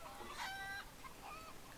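Video-game chickens in a pen give a quick, faint squawk and a couple of soft clucks, very brief and at low volume.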